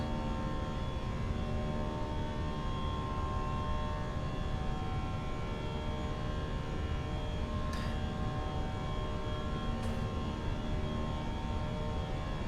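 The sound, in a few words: aircraft engine during climb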